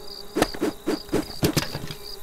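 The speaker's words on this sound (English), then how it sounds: "I did not mean to get bees all over me." Swarm of bees buzzing in the horror video game Lakeview Cabin, a steady insect drone under a series of sharp rhythmic thuds, fairly loud and close with no speech.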